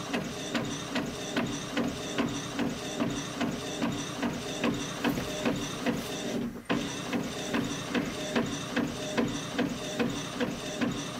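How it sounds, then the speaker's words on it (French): A home photo printer runs through a print job with a steady, rapid mechanical whirring pulse, evenly repeating shuttle passes close by, a brief pause midway before the rhythm resumes. "on appuie sur le bouton print et puis l'impression se lance"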